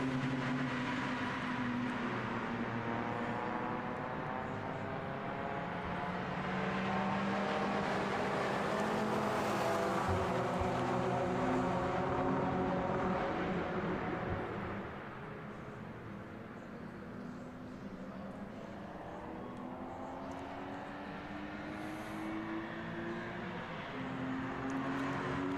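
A BMW 330 race car from RTH Motorsport, racing in the Histo Cup at the Red Bull Ring, accelerates along the start-finish straight toward Turn 1. Its engine rises and falls through gear changes in rising harmonic sweeps, fading at mid-distance without talk.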